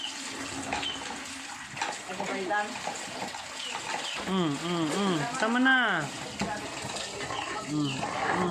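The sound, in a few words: child playing with water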